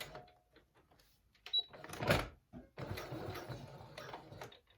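A sewing machine stitches a fabric face mask with elastic, starting and stopping in short bursts before settling into a steady, fairly quiet mechanical hum.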